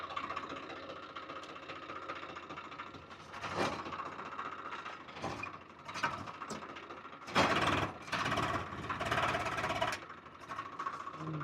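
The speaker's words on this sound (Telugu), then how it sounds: "మన ట్రాక్టర్ స్టార్ట్" A tractor engine starts and settles into a rough, knocking idle, with louder revving surges midway and near the end. It is close by, and no one speaks.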